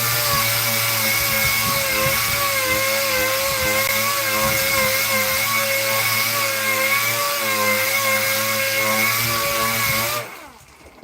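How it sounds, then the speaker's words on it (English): A power sander grinds across the surface of a stone memorial slab during resurfacing, a loud, steady whining drone that runs continuously and then winds down near the end. "Okay, so that's the sanding all complete."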